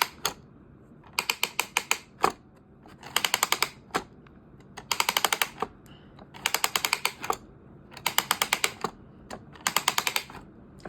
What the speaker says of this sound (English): you can actually crank it up right here.